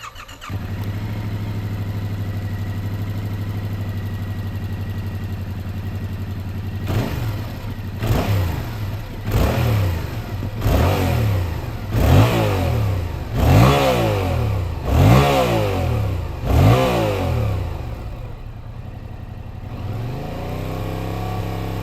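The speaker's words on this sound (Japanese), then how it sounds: "さあそれではエンジンをかけてみましょう。" A Yamaha MT-07 motorcycle engine idles steadily, then is blipped through about eight sharp, evenly spaced throttle revs that rise and fall back to idle, loud and close with no talk.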